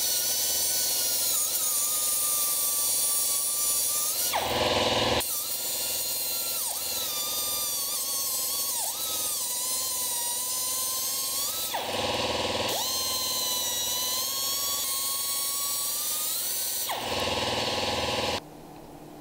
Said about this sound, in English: Take the cutoff wheel and cut a space between them